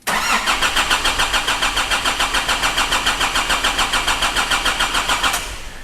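A Nissan D22 pickup's ZD30 diesel engine cranks in a fast, even chugging rhythm for about five seconds. It then catches and settles into a lower, steady idle, heard close and loud.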